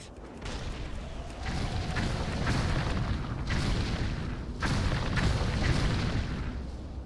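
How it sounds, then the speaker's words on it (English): Airship cannons fire in World of Warcraft, Icecrown Citadel battle: repeated heavy booms, several distinct blasts spaced across the stretch over a dense roar of battle noise, loud and close, without talk. "So fire your cannons until this bar over here fills up, but don't let it overheat."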